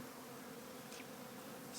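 A low, even buzz of honey bees rises from a hive being installed, soft and steady throughout with no voices.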